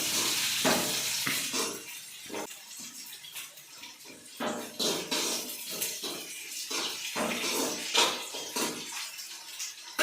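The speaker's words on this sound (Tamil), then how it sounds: "கொஞ்சம் வெங்காயம் நல்லா சேர்ந்து வதங்கட்டும்." Onions sauté in a pan for a Tamil dried fish curry, giving a steady hiss and sizzle with occasional scraping and stirring clatter, close and continuous.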